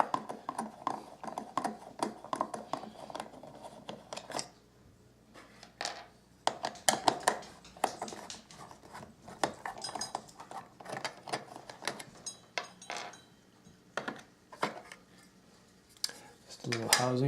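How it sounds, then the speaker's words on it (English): Small metallic clicks and scrapes of screws being backed out of a Steam device's housing, irregular close-up ticks and rattles with quiet pauses between bursts. "So I'm going to unscrew all these screws."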